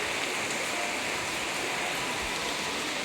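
Heavy rain pouring steadily, a dense even hiss that stays constant and loud throughout with no breaks.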